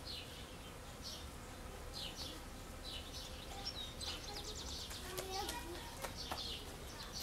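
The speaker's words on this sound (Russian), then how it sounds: "Пчелки тут вовсю уже жужжат, работают." Bees buzzing around open lilies in a garden on a summer morning, a faint steady insect drone under scattered bird chirps and distant children's voices, with light background activity throughout.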